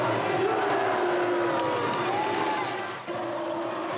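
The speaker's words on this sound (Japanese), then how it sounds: "会場を真っ赤に染めた那覇西応援団の声援" Naha Nishi supporters cheer loudly and without a break at a prefectural high school boys' handball final against Konan. The dense crowd roar swells with chanting and whoops, dips briefly, then surges back.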